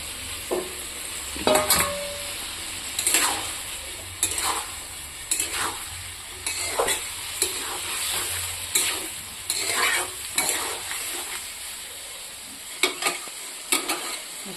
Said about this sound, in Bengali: এই যে ভাজা রাখা ফুলকপি আলুটা দিয়ে দেবো।